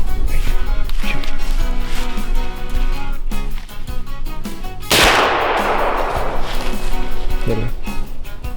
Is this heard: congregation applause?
no